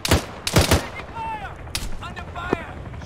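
Gunfire in a military simulation game: several close, sharp shots in a quick cluster, then scattered reports with distant whistling and mechanical sounds between them, no talking.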